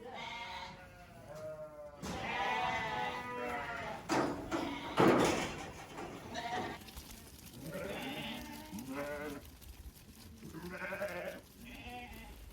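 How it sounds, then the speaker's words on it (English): Sheep and lambs on a Peak District farm bleat repeatedly, several animals calling over one another at close range as they head out to pasture, with a brief thump partway through. "And off the sheep and lambs go back out to the pasture there"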